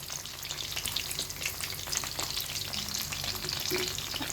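Boneless chicken pieces frying in hot oil, a dense continuous sizzle with bubbling crackle and occasional scraping from stirring, steady and close with nobody talking.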